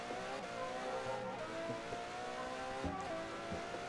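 An Aston Martin Vulcan AMR Pro of about 1,100 horsepower accelerates hard in Forza Horizon 4, its engine note climbing steadily through several quick gear shifts with brief dips, loud and continuous.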